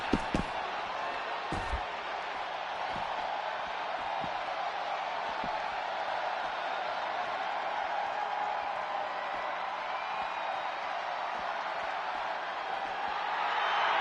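A wrestling arena crowd in WWE 2K25 roars as a steady, distant wash of cheering, with occasional sharp thuds and slams from the ring cutting through the noise.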